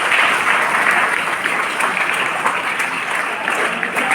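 An audience at a Gujarati gathering gives a round of steady applause, thick continuous clapping from many hands with scattered sharper claps, loud and even for several seconds.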